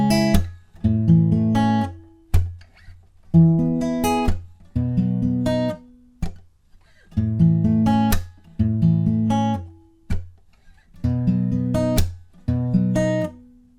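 Guitar playing a song's pre-chorus with no capo in a fingerpicked pattern: clear plucked notes and chord tones in repeating rhythmic phrases with short gaps, close and clean, no voices.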